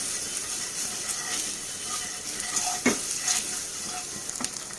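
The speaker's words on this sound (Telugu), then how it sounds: "కొద్దిగా ఉప్పు, మంటను తగ్గించుకోవాలి, కొద్దిగా కారం ఇవన్నీ వేసుకొని ఇలా ఫ్రై చేసుకోవాలి." Spices sizzle in hot oil with salt and chili powder for egg curry, a continuous bright hiss broken by a few sharp stirring clicks and scrapes of a spoon against the pan.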